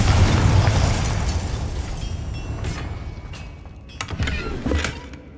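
Confringo fire spell exploding in Hogwarts Legacy, a loud booming blast with a rumbling tail that fades into crackling debris and a few smaller pops, with no talk.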